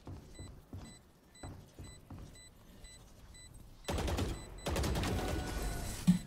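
Video game gunfire and explosions: a string of sharp shots in a steady rhythm, then a loud, dense burst of blasts and rapid fire with a grenade detonation near the end, no talk.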